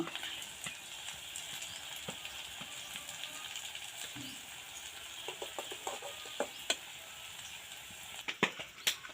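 Taro-flower pakoras frying in hot oil give a steady, close sizzle and crackle, with a few sharp utensil clinks and taps near the end and no talking.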